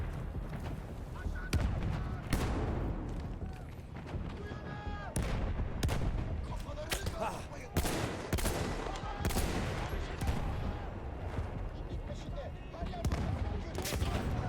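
Gunfire from the Battlefield 1 video game: dense, continuous heavy shots and bursts pounding loudly throughout, close and booming, with no pauses.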